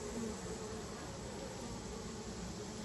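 Honeybees drone inside a hive box during a beekeeping inspection, a dense continuous buzz, soft and steady throughout with no talk.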